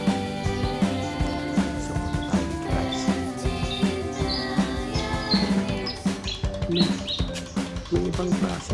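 Birds, some of them pipits, chirp and whistle in a mango tree, with many overlapping short tweets and trilling calls, fairly close, steady over a quiet background.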